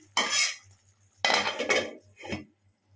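A metal lid set onto a cooking pot of chicken with mustard-poppy seed paste on a gas stove: three separate clanking, scraping metallic contacts, close and fairly loud, over a low steady hum.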